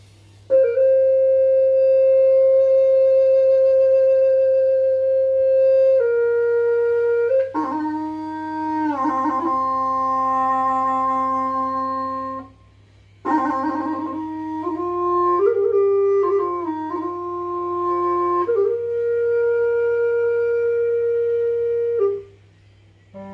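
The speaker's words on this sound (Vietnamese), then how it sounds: "âm thanh của một cây sáo rất là đặc trưng, sáo của đồng bào người Mông" A Hmong flute plays the tune Xuân Về Bản Mèo, reedy sustained notes with a buzzing, harmonica-like timbre, sliding ornaments and two-note chords, loud and close, in phrases broken by a brief pause.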